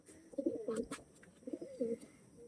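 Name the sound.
pigeon cooing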